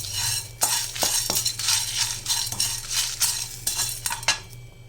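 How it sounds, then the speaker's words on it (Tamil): A spatula stirs and scrapes curry leaves roasting in a pan for podi lemon rice, making repeated metallic clinks and scrapes in quick, uneven strokes over a faint sizzle. "இதையும் நல்லா சேர்த்து கிளறி நல்லா வறுத்துக்கலாம்."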